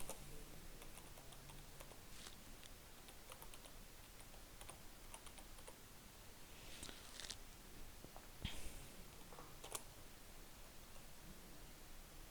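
Typing a password on a computer keyboard during an email account sign-up, a steady run of quiet, close key taps over faint hiss, with no one speaking.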